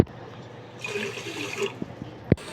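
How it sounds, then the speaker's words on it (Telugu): Water poured into sugar for a syrup for kova gulab jamun, a steady liquid pour that swells briefly in the middle before easing off, with a sharp knock near the end and no talk. "సో 2 కప్స్ ఆఫ్ షుగర్కి 2 కప్స్ ఆఫ్ వాటర్ యాడ్ చేసుకుందాం."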